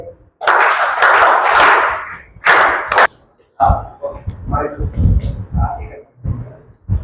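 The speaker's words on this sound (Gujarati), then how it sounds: "આપણે 3 તાળીઓથી એમને બિરદાવીએ" Applause of three quick rounds for the RK Group workers at a school notebook distribution event in Chikhli, Navsari, loud bursts of clapping from the gathered crowd, followed by someone speaking over the room.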